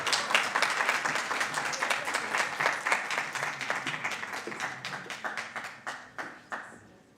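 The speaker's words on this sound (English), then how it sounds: "Let's give her a warm round of applause as she makes her way to join us on stage." Indoor audience applause at a debate finals event, a dense burst of clapping that thins and slows into scattered claps before fading out.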